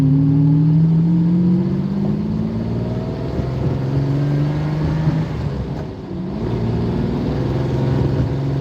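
A Lamborghini Countach cruises on an open road, its engine droning loud and steady from inside the car, with pitch rising through the gears and dipping briefly on a shift before climbing again.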